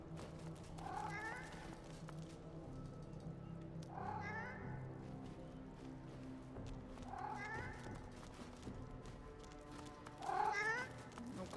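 A cat in the game Divinity: Original Sin 2 meows about four times at a steady pace, with one louder cry near the end, over a low, constant bed of game ambience.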